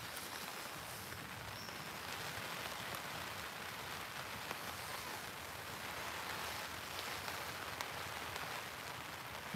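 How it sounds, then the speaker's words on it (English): Heavy rain pours steadily in winds over 30 miles an hour at Martham Staithe on the Norfolk Broads. The rain makes a constant dense hiss and patter close to the microphone through the whole stretch. "We've got 30 plus mile an hour winds and heavy rain at the moment."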